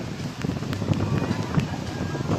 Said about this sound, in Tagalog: Ang lakas na ng hangin.